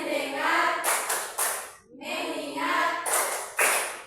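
Schoolchildren perform a rhythmic focus clap in a classroom, several sharp bursts of group hand clapping separated by short pauses, with chanting voices in between.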